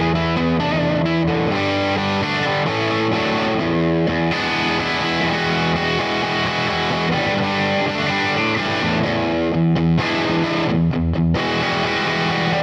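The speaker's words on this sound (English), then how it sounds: "The other scenes in this particular preset use the Tweed Deluxe amp" An electric guitar on the bridge pickup plays through a Fractal FM3 Tweed Deluxe amp model, a continuous, loud, slightly distorted bluesy passage of sustained chords and notes with brief pauses near the end.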